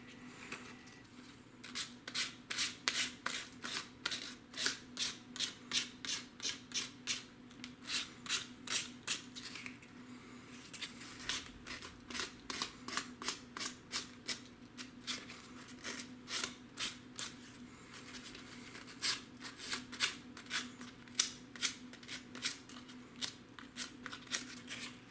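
Scissors snip through tissue covering on a model aircraft frame, a long run of quick, regular cuts close by with brief pauses, over a low steady hum.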